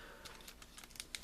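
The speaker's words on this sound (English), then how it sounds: "You fold them up like so, and they kind of click into place" Plastic legs of a Transformers Universe Cyclonus toy folding accordion-style, giving a run of small sharp clicks and snaps that grow closer together toward the end, close up, with no talking.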